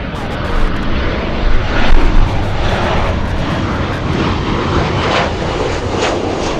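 A plane at Los Angeles International Airport roars with a loud, steady engine drone, broad and sustained, close by with no break.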